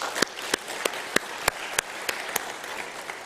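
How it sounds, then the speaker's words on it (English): Applause from the audience at a university vice-chancellor installation ceremony, a diffuse bed of clapping punctuated by sharp, regular close claps roughly every third of a second. "Can we clap for them, please?"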